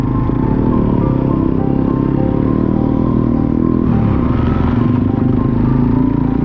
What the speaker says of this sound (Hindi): दूसरे गियर पे चढ़ी है बाइक आराम से, तीसरे पे नहीं चढ़ेगी